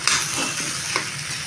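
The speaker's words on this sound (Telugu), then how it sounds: "ఇప్పుడు సాల్ట్ వేసుకొని మొత్తం ఇలా కింద నుంచి పైదాకా ఇట్లా మిక్స్ చేసేసుకోండి" Salted boiled potato curry being stirred in a hot pan, a close continuous sizzle with a few soft scraping stir strokes, no voices.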